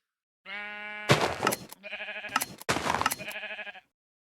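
Several short, synthetic-sounding Minecraft sheep bleats in quick succession, clear and close, with no other sound around them.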